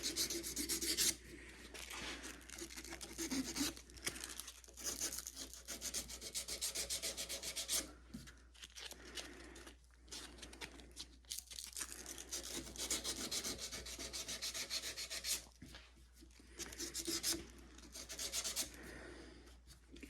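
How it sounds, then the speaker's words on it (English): Folded 180-grit sandpaper rubs back and forth in the carved tip grooves of a wooden longbow, a steady rasping scrape in close, repeated strokes with brief pauses, no talk. "fold it up like this to make kind of a sandpaper file. And we'll sand these groove areas."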